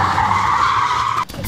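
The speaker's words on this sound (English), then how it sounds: "There he is, my boyfriend, driving our Miata." A Mazda Miata rental car squeals its tires in a loud, sustained skid that holds steady for over a second, then cuts off abruptly with a little low engine rumble after.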